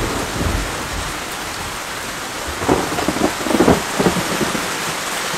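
A heavy jungle downpour roars steadily and close, with several rumbles of thunder rolling through the middle, then easing back to dense rain.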